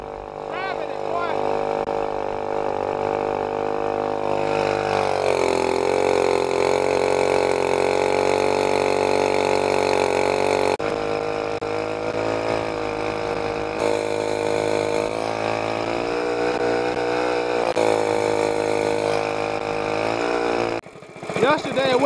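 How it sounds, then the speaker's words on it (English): A Stage 2/3 mud motor with a Mikuni carburetor idles close by, a steady droning engine note that wavers and surges slightly throughout, with a brief dip near the end. "So today it's idling, but that idle jet's got to come up some."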